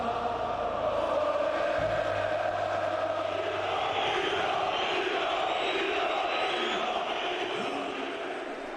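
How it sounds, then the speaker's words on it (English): A dense football crowd roars and chants inside a stadium before a Balkan derby, a steady loud wall of massed voices building with no break throughout. "Inside the ground, the crowd were coming to the boil."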